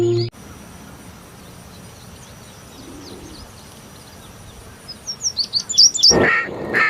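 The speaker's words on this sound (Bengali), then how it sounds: "আর এটা একটা ডাহুক পাখি।" A white-breasted waterhen calls outdoors, a series of short chirps quickening into a burst of louder notes near the end, over a quiet background.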